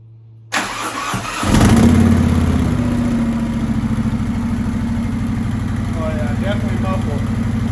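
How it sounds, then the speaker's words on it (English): A Harley-Davidson Touring motorcycle engine with its stock exhaust baffle still fitted cranks over and catches, then settles into a loud, steady, muffled idle with an even low pulsing close by. "We gonna start it up with the muffler in it. Well, we gonna start up with the baffle in it still."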